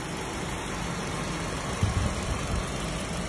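A VinFast Fadil car engine idles with the hood open, a steady, smooth, even hum heard close up and alone, with a few slightly stronger low thumps midway.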